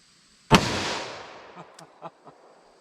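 A single loud, close .357 Magnum handgun shot fired outdoors during a short-barrel penetration test, a sharp crack followed by a long decaying echo and a few faint knocks.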